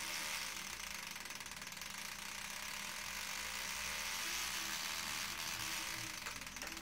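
A car engine idles with its fuel injectors driven by an Arduino Uno, giving a steady mechanical ticking and whirring hum at an even, moderate level throughout, with no talking.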